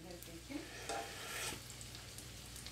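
Soft, steady sizzling of bacon frying on a hotplate, with a few faint scraping and stirring sounds mixed in.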